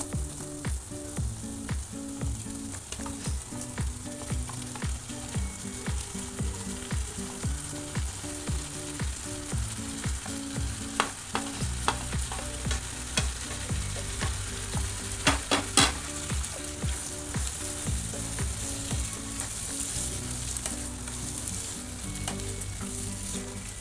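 Tomatoes frying in oil in a pan with green chili, ginger and garlic for a tomato pickle, a steady loud sizzle broken by repeated scraping stirs of a spoon across the pan, continuing throughout with no talk.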